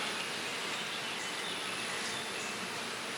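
Honeybees in a queenless Flow Hive colony with a laying worker, making a dense, continuous buzzing hum at close range with no pauses.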